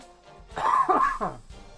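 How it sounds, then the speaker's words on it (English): A single close, hoarse cough, throaty and brief, with quiet surroundings before and after. "There's another cough."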